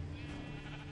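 A sheep bleating in Minecraft, a single faint, short wavering bleat with a buzzy tone, heard alone.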